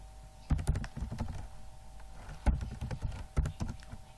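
Typing on a computer keyboard, scattered clusters of close key clicks and thunks separated by short pauses, over a faint steady electrical hum.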